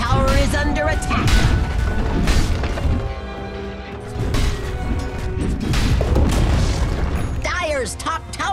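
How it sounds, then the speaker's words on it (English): The top tower in Dota 2 is attacked and destroyed amid loud booms, crashes and thwacks of battle, with sharp impacts and effects layered over an announcer voice. "Dire's top tower is under attack!"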